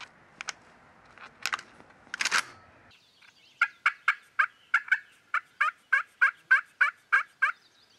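A wild turkey gobbler in the spring woods gives a fast run of about a dozen evenly spaced, ringing calls, close and loud, after a few seconds of scattered crackling and rustling.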